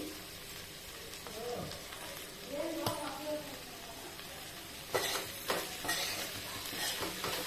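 Okra fry is stirred in a pan with spice and lentil powder, soft scraping and a gentle sizzle in short bursts, quiet and close, with brief stirring strokes toward the end.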